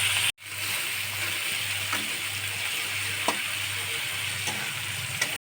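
Onions fry in oil toward golden brown for a mutton and potato curry, a soft continuous sizzle with a low hum beneath, broken by occasional clicks and scrapes of a spatula against the pan.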